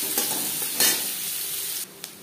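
Chopped onions fry in hot oil with cumin and bay leaf, a steady close sizzle with a couple of sharper stirring scrapes, then the sizzle drops slightly toward the end.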